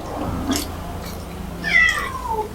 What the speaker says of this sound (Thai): อืมแมว